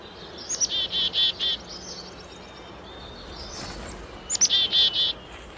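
A chickadee calls close by, two bursts of bright, rapid high notes separated by a pause, over a quiet outdoor background.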